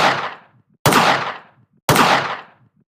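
Gunfire in the mobile shooter Call of Duty Mobile comes as three loud, booming shots about a second apart, each with a long, fading tail and no talk.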